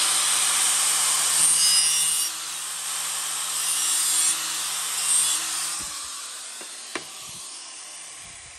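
Polishing pad smoothing the chipped, cut edge of a 12x24 large format tile for a shower floor, giving a steady close gritty rubbing that runs in sustained passes, easing off near the end with a couple of sharp knocks.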